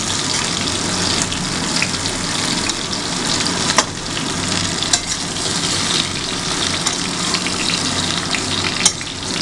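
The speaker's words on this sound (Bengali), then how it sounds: "হালকা করে কড়াইতে ভাজা হবে" Drumstick stems and brinjal fry in oil in a kadai with a loud, dense, continuous sizzle close by, dotted with occasional sharp pops and clicks.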